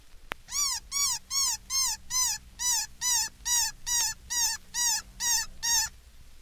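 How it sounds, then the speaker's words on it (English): Baby cottontail rabbit distress cries: a rapid, steady run of about a dozen short, thin, wavering squeaks, fairly faint but close, alone over a low hum. "Now, listen to a baby cottontail."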